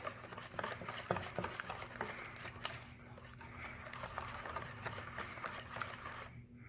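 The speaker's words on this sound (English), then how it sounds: "I'm going to whisk that in." A whisk stirs shredded cheese into an egg-based chicken and broccoli quiche mixture in a bowl, a quiet, fast, steady scraping rhythm that keeps going and stops abruptly at the end.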